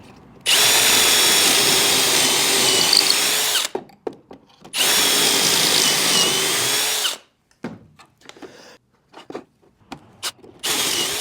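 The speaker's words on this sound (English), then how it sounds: "I'm gonna put pocket holes into this side." A power drill boring pocket holes into plywood runs in two long loud bursts, followed by shorter intermittent whirs and clicks, with no talking.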